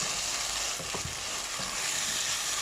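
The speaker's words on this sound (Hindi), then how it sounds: "इसमें दही डाल के आपने रेस्ट नहीं करना, आप इसको भूनना है।" Potato and egg curry (aloo anday ka salan) frying after yogurt is added to the pan, giving a loud, continuous, dense sizzle with a brief soft stirring scrape and no talk.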